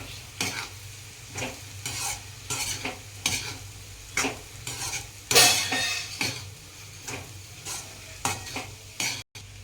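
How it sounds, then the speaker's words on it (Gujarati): A spoon stirs crushed millet flatbread through a hot tempering in a pan, giving repeated rhythmic scraping strokes against the metal over a soft continuous sizzle, with no talking. "આ રીતના મિક્સ કરી દઈશું બધું."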